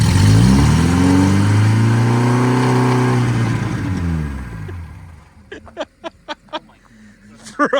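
An abandoned 1970 BMW 2002 engine cranks and fires, revving loudly with rising and falling pitch for several seconds, then dies down to a rough idle with a few sharp clicks and knocks near the end.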